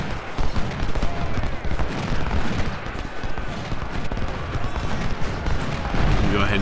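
Musket volleys crackle nearly nonstop across a Civil War battle in the video game Ultimate General: Civil War, dense overlapping gunfire filling the scene at close range, with a voice talking over it.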